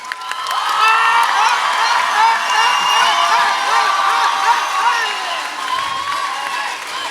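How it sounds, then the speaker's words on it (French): An audience applauds warmly at the close of a graduation-style ceremony, with sustained clapping, some cheering and whoops, steady and loud throughout, while voices carry over it. "Applaudissez-les chaleureusement encore une fois."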